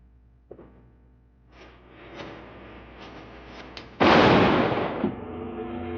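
A sharp gunshot crack in an old Western TV drama is followed by a heavy, booming report. It rings out loudly and then fades, with a smaller pop and faint shuffling before it.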